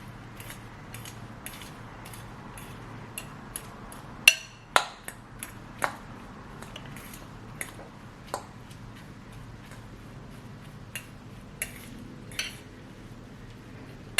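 Metal spoon scraping and tapping in a pan while mixing lemon rice, with sharp clicks and clinks at irregular intervals, loudest around the middle, over a quiet kitchen background with no talk.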